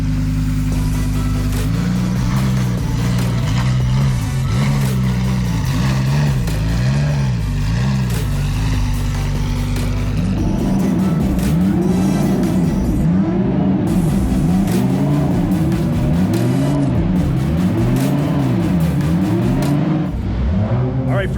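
A C8 Corvette fitted with KW V5 suspension drives hard around Laguna Seca, its engine loud and close, revving up and down continuously through gear changes without pause.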